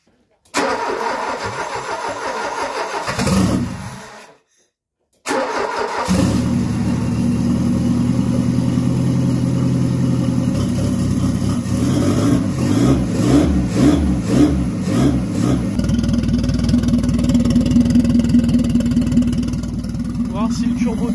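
A Renault Espace with a turbo engine cranks and catches, then settles into a steady running roar with rising revs, loud and close after a brief silence, with voices talking over it.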